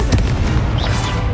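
A fiery spell-cast burst from the Hogwarts Legacy video game, a dense booming whoosh that fills the short moment loudly, with no talk over it.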